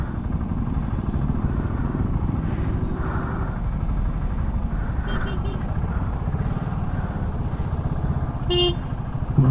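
A BSA Goldstar 650 motorcycle engine rumbles steadily on an on-road test ride, with continuous wind and road noise, a brief horn-like toot near the end, and a rider's voice talking over it.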